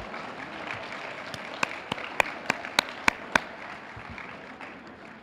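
A small crowd at a senior games celebration applauds the water aerobics participants with steady clapping and a few sharp individual claps standing out.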